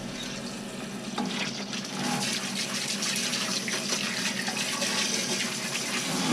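A kitchen tap runs ice-cold water over broccoli rabe, cooked with orecchiette and sausage. A steady, close splashing and hissing stream continues without a break and grows a little fuller after the first second or so.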